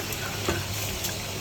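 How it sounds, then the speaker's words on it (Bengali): Washed rice goes into a chicken biryani pot, setting off a steady close sizzle and soft rustling stir that holds evenly for a moment with no talking. "এখন আমরা চাল দিয়ে দিই।"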